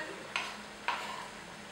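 Parsley being stirred into a pan of golden-browned chicken and potato meatball mixture, with two short scraping strokes over a soft, steady sizzle.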